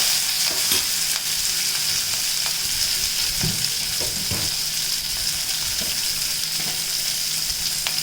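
Onion, green chilli and ginger frying with salt in a pan make a steady close sizzle, with occasional soft scrapes and knocks from stirring spread across the stretch; no voices.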